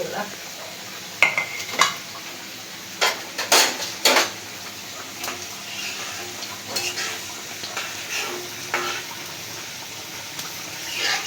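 Onions dropped into hot oil in a pan for a Bengali village-style hilish pulao, frying with scattered sizzling bursts, stirring scrapes and clinks of utensils against the pot, fairly close.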